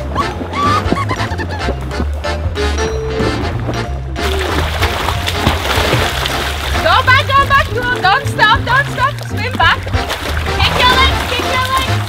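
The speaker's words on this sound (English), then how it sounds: "Now you're gonna swim that side and come back." Children splash and swim in a swimming pool, steady sloshing and splatter throughout, with music playing loudly over it and voices of kids in the background.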